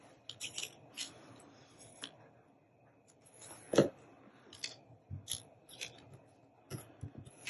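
Scissors snip through a handmade Christmas paper tag in a few short crisp cuts, close up, with light rustling and handling of paper between them.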